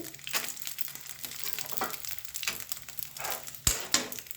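Cashews sizzle in hot oil for prasadam pulihara, a steady crackling fry with soft scraping stirs and a couple of sharp clinks near the end.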